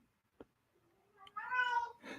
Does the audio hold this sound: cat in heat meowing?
yes